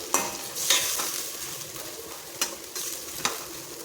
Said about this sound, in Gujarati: તો આદુ લસણને આપણે અહીંયા સાતળી લઈશું।